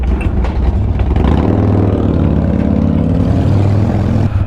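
A motorcycle engine runs nearby with a loud, throaty rumble that swells and falls as it revs, filling the whole stretch without talk.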